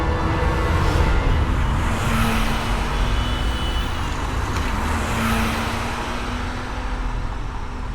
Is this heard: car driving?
yes